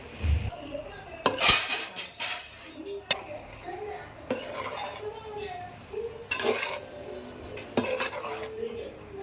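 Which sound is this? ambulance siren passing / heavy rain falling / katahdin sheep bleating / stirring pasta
stirring pasta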